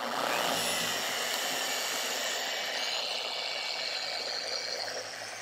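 Machine polisher running on car paint, a steady, close, whirring hum with a hiss, held at an even level throughout.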